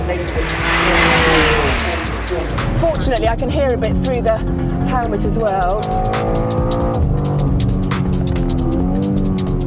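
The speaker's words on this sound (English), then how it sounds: "Oh, this car is super fast." A BMW M2 Track Kit car at speed on the Goodwood Festival of Speed hill, its engine droning steadily inside the cabin with rising and falling gear notes, heard under continuous talk from the driver.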